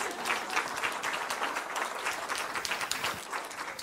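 An audience applauds after a question at a Spanish-language talk, with steady, crowded clapping sustained for several seconds at even loudness and no one speaking over it.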